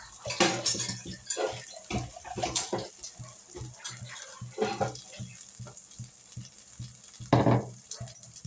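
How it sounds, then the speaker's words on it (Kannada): Masala frying in oil in a hot pan while a utensil stirs and scrapes it, with irregular clinks and scrapes over a soft sizzle, close and fairly quiet, with one louder scrape near the end. "ಮಸಾಲ ಫ್ರೈ ಆಗಿದೆ, ಎಣ್ಣೆಲ್ಲ ಸೈಡ್ ಬಿಡ್ತಾ ಇದೆ."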